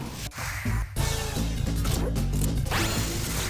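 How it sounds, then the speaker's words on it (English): Clicking noise from the Henry Hatsworth video game, a rapid run of mechanical ticks over busy game music and effects, steady and moderately loud. "So that clicking noise, that means that when you're on the bottom or top screen, that means that that is a guarantee that the enemy block will rise"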